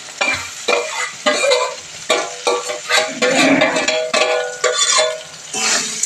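Ginger and garlic with fried onions and mustard seeds being stirred and fried in a pan for masala dosa, with loud repeated spatula scrapes and steady sizzling close up, no talking.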